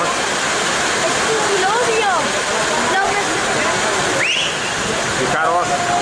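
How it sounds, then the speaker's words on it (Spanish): A heavy downpour pours over a football stadium during a friendly match at Estadi Municipal Costa Brava in Palamós, a dense constant roar of rain with faint whistles and a commentator speaking over it. "Fijaros, la lluvia, la trompa de agua"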